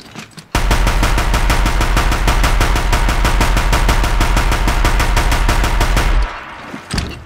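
A single gun in Horizon Zero Dawn fires a long, rapid, evenly spaced automatic burst of about six seconds, loud and close, then stops abruptly, followed by quiet movement.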